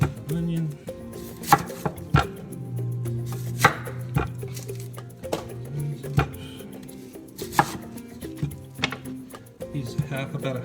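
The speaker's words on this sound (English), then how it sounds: "And then we're going to cut up the onion." Knife chopping half an onion on a cutting board for chicken noodle soup, a steady run of sharp, close taps with brief pauses, a few louder strikes standing out, and no talking.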